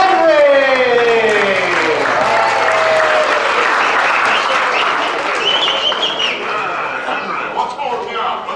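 Audience applause for a master of ceremonies at a live show, a dense, steady wash of clapping that fills the whole stretch, with an amplified voice and tones over it at the start.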